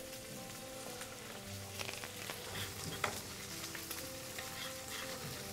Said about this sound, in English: now we're going to sear the fish